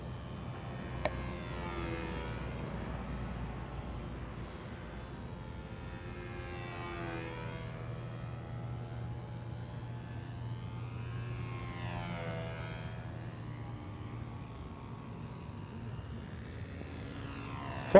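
A radio-controlled model airplane flies touch-and-goes, its small engine a faint, distant drone that hums steadily throughout, rising and falling slightly as it passes.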